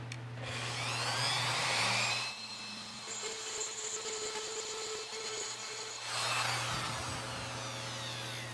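A router cuts a half-inch-deep groove across wood for a Roubo workbench, a steady high whine in two loud bursts at the start and end with a quieter hum between them.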